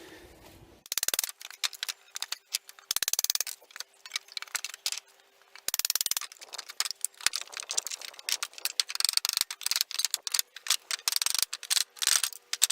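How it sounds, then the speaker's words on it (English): Sharp irregular clicks, cracks and creaks of a pry bar or flat bar levering nailed wooden slats off a pallet, in loud bursts with quiet gaps between, close and with no voices. "grab your pry bar or your flat bar, drive it in and lever these slats off"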